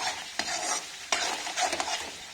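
Masala spices fry in a pan with a soft, steady sizzle, broken by several scraping spatula strokes as they are stirred and roasted, heard close and without talk.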